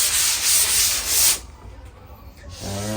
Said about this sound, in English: Sanding the edge, and then a little bit in the middle, and then go through and feel it all.